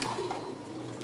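Pigeons coo softly in the morning after feeding, a brief low murmuring call set against steady background noise.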